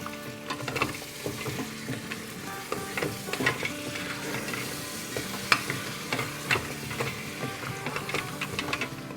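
Curd sautéed and stirred in a pan, with steady sizzling frying under repeated scraping strokes of a spoon throughout, close and fairly busy.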